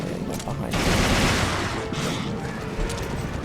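Dense gunfire from a video game, Resident Evil Revelations Raid Mode: loud rapid bursts of shots mixed with game effects, running almost continuously over the whole stretch.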